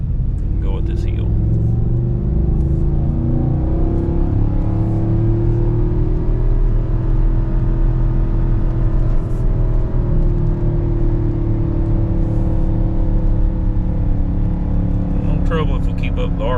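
A Ford Tremor truck with the 7.3 gas engine towing a heavy load, a loud steady engine drone with rising and falling harmonic tones as revs climb, heard from inside the cab under someone talking.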